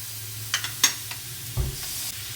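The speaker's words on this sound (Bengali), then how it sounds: "পোড়নটা আমার ভালো করে পুড়ে গেছে এবারে অল্প প্রথমে ছেড়ে দিই" Tempering spices for Bengali masoor dal sizzle as the lentils are poured in, with a faint steady fry, a few close clinks and a brief splash-like burst.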